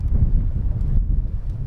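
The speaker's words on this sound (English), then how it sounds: "it is choppy and pretty windy today." Strong wind over choppy lake water near a small cove, a heavy low rumble of gusts buffeting the microphone throughout, with no talking.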